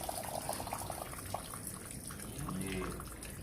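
Tap water runs into a filling tank, a quiet continuous splash and trickle that carries on throughout with no break.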